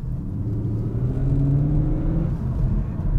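A 2021 CUPRA Formentor e-Hybrid 245 accelerates in Cupra mode, its artificial engine sound a rising, droning hum heard from inside the cabin over low road rumble.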